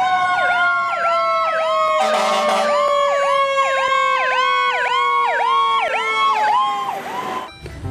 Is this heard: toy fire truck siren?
yes